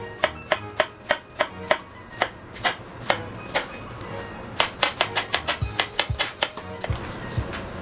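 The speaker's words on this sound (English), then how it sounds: "I'm gonna finally chop the red onion." A knife chops red onion on a cutting board in quick, crisp taps, several sharp strokes in bursts with short pauses, close and clear with no talk.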